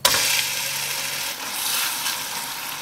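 Oil sizzling steadily as canned San Marino meatloaf fries in a pan, a dense hiss that stays loud and close throughout with a brief dip midway.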